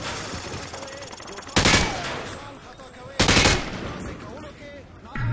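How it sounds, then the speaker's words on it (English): Two loud bursts of automatic rifle fire sprayed at targets on a range in Call of Duty: Modern Warfare 2, each lasting a fraction of a second, with a short pause between them over a steady background of game ambience. "He sprayed bullets all over the damn place."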